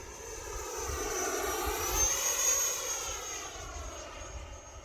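An E-flite F-16 Falcon radio-controlled jet with an 80mm ducted fan and Toledo livery flies past. Its whine and rush swell toward the middle and fade, and no one speaks.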